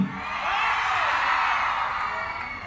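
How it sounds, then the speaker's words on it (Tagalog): A large crowd at an outdoor political campaign rally in Pasig roars and yells together in a sustained, loud swell of voices with scattered whoops, fading slightly toward the end. "Lakasan niyo naman ang inyong mga sigaw."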